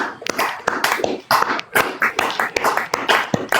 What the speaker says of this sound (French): On applaudit pour Anissé Ekane, s'il vous plaît.